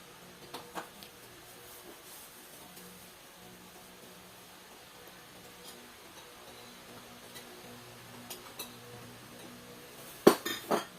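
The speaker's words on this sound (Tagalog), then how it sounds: "Ang lakas ng tilampit ng mga plato niyo" Plates and cutlery clink at a meal of tortang talong (eggplant omelette), a faint steady background with a few sharp louder clinks near the end.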